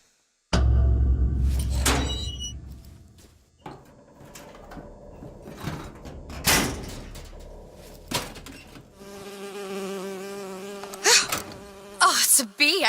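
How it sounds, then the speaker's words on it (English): A bee in a Bioshock Infinite cutscene buzzes close by, its drone rising and fading between thumps, slides and other scene noises, with a steady, louder whine toward the end. "Oh, it's a bee. I hate these things."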